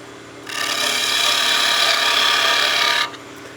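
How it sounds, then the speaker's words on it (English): A parting cut on a wood lathe shaping a snowman oil candle: a steady, bright scraping hiss starts abruptly, runs evenly for about two and a half seconds close up, then stops sharply. "Now let's part down this end here."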